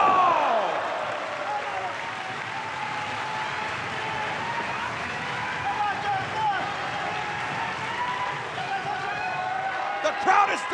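Wrestling crowd noise during a bout between Jon Moxley and El Desperado, a steady broad roar of cheering and applause filling the arena throughout, with a commentator talking over it.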